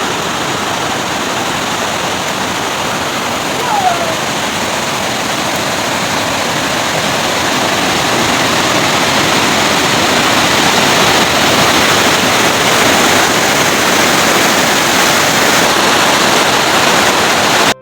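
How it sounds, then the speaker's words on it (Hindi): Steady, loud roar of a waterfall in the Uttarakhand mountains, flowing down from Hemkund near the valley route and Hemkund Sahib checkpoint, a dense unbroken rush of water that stays constant throughout with no voices. "ये सुंदर सा झरना जो हेमकुंड की तरफ से आके बह रहा है"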